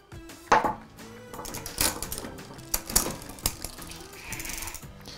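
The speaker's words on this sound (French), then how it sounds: "je vais venir actionner la vis de butée pour, de la même façon que pour la butée H, aligner les roulettes avec le grand pignon. Je viens visser" A screwdriver turning the low limit screw on a bicycle rear derailleur to align the jockey wheels with the largest sprocket; close, irregular small metallic clicks and ticks, alone.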